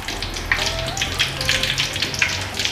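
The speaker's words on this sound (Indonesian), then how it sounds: "Lalu sosisnya kita celupkannya ke dalam minyak panas seperti ini" Sausages wrapped in tofu dipped into hot oil so they bloom, giving a steady crackling sizzle with bursts of spattering throughout, close and moderately loud.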